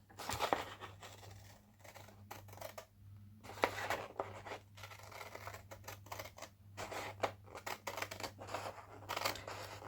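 Scissors cutting paper for a junk journal made from paper bags, packaging and envelopes, a close series of crisp snipping strokes in irregular bursts with short quiet gaps between.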